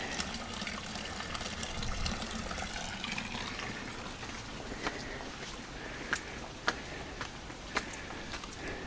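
Water running from the mouth of a statue fountain at a tourist site in Braga, Portugal, a continuous soft splashing gush heard at a distance, with faint clicks and outdoor ambience.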